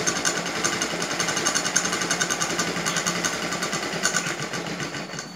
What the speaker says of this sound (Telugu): ఫస్ట్ మనం పాత క్లాత్తో ఈ విధంగా 2-3 సార్లు కొట్టుకుని కనుక ఆయిల్ అంతా వెళ్ళిపోతుంది